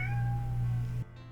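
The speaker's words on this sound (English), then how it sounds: "That was my cat. She wants to go out." A house cat gives a single clear, drawn-out meow close by, lasting about a second before cutting off.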